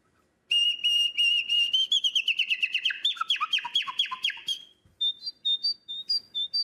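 A person whistles an imitation of a nightingale's song: rapid repeated trills, descending swooping notes, then short bright chirps, clear and close with no talking.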